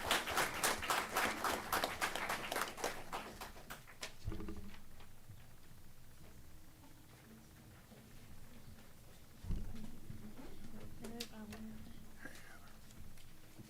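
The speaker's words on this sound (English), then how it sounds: "Let's give these folks a big round of applause." An audience claps for employees being honored at a board of education meeting; brisk applause fills the first four seconds, then fades to quiet room sounds with a few faint voices.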